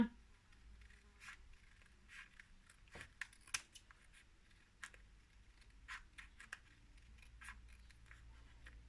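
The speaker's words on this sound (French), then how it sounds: "Je coupe au ciseau." Scissors snipping through paper for a small handmade mini album, a series of crisp irregular cuts spread across the stretch, close by, with a voice talking quietly in between.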